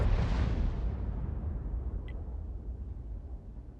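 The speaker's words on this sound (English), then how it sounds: "And that Lerva's firing out from the town." A Lorraine tank's gun firing in World of Tanks, one heavy boom at the start that decays into a long low rumble, fairly distant and quiet.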